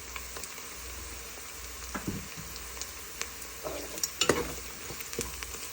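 Fennel and mustard seeds hit hot oil, giving a quiet steady sizzle with scattered crackles and pops, a few sharper bursts near the end.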